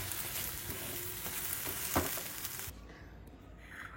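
Green pea kachori filling being dry-fried in a wok with salt, sugar and roasted spices, giving a steady close sizzle with light stirring scrapes, which drops away abruptly near the end.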